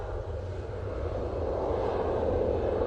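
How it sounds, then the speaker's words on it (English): A VistaJet business jet rolls for takeoff at Manchester Airport, a steady, distant engine roar that swells slightly over a few seconds with no one talking. "VistaJet is on the roll"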